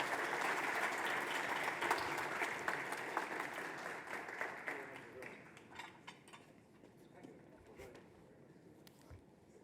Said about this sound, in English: ask the audience to give a big round of applause to our second group.